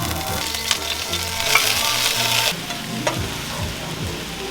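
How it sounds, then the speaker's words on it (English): Vegetables stir-frying with coconut milk in a pan, a continuous bright sizzle with stirring scrapes and clatters, loudest midway before settling back. "Stir fry the veg."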